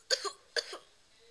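Two short pretend coughs from a person, close and fairly quiet, spaced about half a second apart, followed by near silence.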